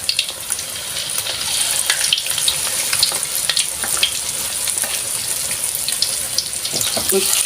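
Chicken fries in hot oil, a loud, dense, continuous sizzle with crackling pops close by, while someone talks faintly under the frying.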